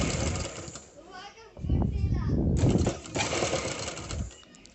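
A sewing machine runs in short motorized bursts while stitching thread piping onto a blouse, its whirring stopping and starting as someone talks over it.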